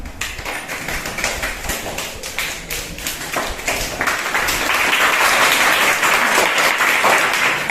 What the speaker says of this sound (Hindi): बैठो, ताली बजाओ